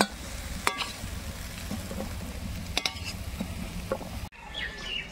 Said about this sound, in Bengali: লতিটা হালকা ভেজে নিলাম